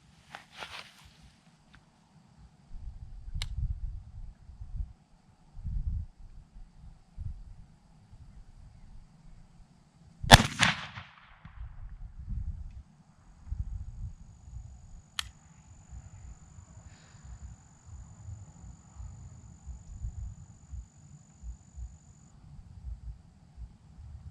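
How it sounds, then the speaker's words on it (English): An SDS Imports AKSA S4 shotgun fires buckshot and slug outdoors during an evening sit: three sharp, widely spaced reports, the middle one loudest, over wind rumble and soft movement noise. "I'm going to try and take my time here and make 3 good shots"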